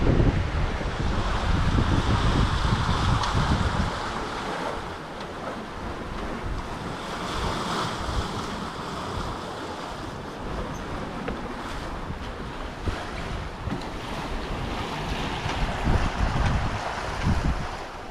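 Wind and waves at sea rush around a sailboat on an Atlantic crossing, a constant broad wash of surf and gusting wind buffeting the microphone, with no voices.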